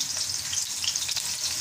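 Crushed onions frying in hot oil in a pan for a desi roasted meat dish: a steady, close, loud sizzle with crackling spatter throughout and no talk.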